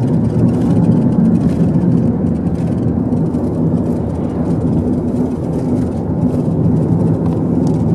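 A car engine drones steadily under way on a rural road in a Ukrainian village, a loud continuous low rumble with road noise for the whole stretch and no talk over it.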